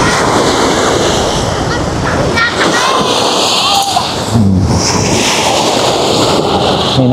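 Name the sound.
sea waves on a windy beach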